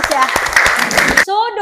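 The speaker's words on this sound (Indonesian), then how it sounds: "Oke, tepuk tangan, sangat bagus ya." A classroom of students claps hands together in a quick burst of overlapping claps, loud and close, then stops abruptly as a voice begins speaking.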